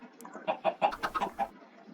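A short burst of chicken clucks from Minecraft, several quick bursts in a row, fairly close and clear with no talking.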